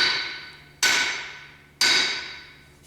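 A hammer hits a solid steel anvil mounted on a wooden stand. There are two sharp, loud metallic strikes about a second apart, each with a bright ringing tail that fades quickly.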